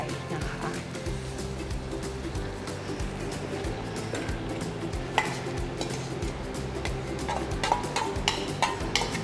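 Cream is stirred into a pan with ham and mushrooms for fettuccine Alfredo sauce, heard as continuous close sizzling with scraping spoon strokes and a few clinks against the pan.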